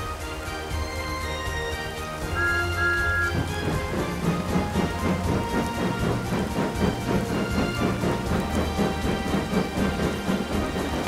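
Steady rain falls alone in a children's animated railway story, a dense hiss that starts soft and thickens after a few seconds, with faint rumbling tones underneath.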